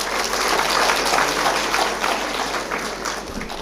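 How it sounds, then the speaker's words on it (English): A conference audience at an international research conference in Sri Lanka claps after a performance, giving sustained dense applause that stays loud and even before slowly tapering. "Let's give them another huge round of applause."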